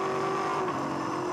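A 2002 V8 Supercar racing engine at Pukekohe holds a loud, steady high-revving howl with a strong sustained tone, close and continuous throughout.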